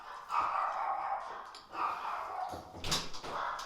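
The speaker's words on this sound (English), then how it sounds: "My damn dog's barking." A dog barks and yelps indoors at moderate distance, with a couple of drawn-out bursts and some rattling noise mixed in.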